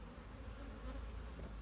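Honey bees flying around an opened hive while frames are shaken during an inspection, a faint continuous buzzing drone under a low background rumble.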